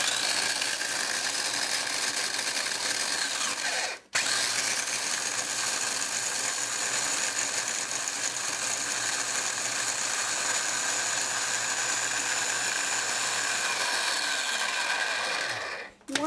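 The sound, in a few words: food processor chopping shortbread cookies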